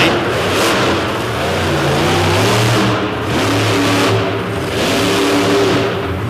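Monster truck engine at a Madison destruction show, revving hard as the driver works the throttle on and off around the track, a loud, close, continuous roar that swells and dips in pitch several times.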